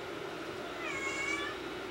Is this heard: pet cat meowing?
yes